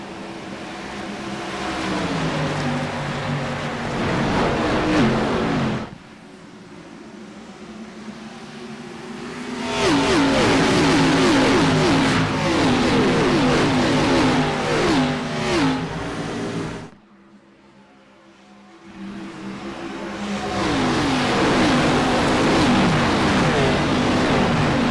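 Stock race car engines from a Cup Series league race at Darlington in a racing video game roar and rev loudly in long sustained bursts, with two brief drops before the engines swell again.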